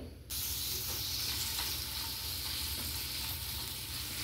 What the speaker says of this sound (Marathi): आता आपण यामध्ये काय करूया, कांदा हा छान परतून घेऊया